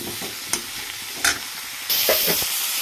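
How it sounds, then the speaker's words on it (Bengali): A spatula stirs fish curry ingredients for bata fish in a hot pan, with scraping strokes over a steady sizzle that swells louder near the end. "এবার সুন্দর করে এগুলোকে মিশাবো"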